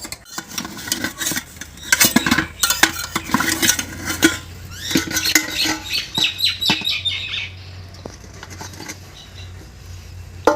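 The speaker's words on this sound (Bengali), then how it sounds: "এখন আমরা ঢাকনাটা খুলে দেখব খুব সাবধানে" A metal lid lifted off a pot of eggless chocolate cake baked on a stovetop without an oven, giving bursts of clattering and rattling metal, scraping and tapping close by before things quieten.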